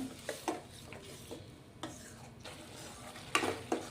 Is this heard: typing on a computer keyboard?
no